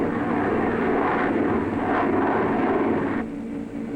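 Steady, loud drone of a skydiving jump plane's engine filling the cabin, continuous and unbroken, easing slightly quieter near the end.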